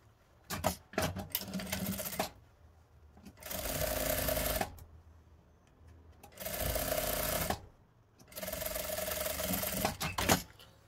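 A sewing machine stitches a seam along a denim jeans leg in several close, loud bursts of rapid mechanical whirring, separated by short quiet pauses and a few clicks.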